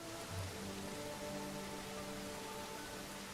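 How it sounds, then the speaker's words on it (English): Heavy rain in the survival game Under A Rock, a steady, dense hiss of drops on surfaces that stays constant throughout, with a faint low tonal hum beneath. "Full rain. So the sound changes, which is nice."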